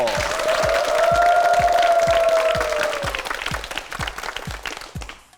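Studio audience applause on a Korean quiz show, a dense wash of clapping that swells and then thins out over a sustained musical tone with a steady rhythmic beat underneath.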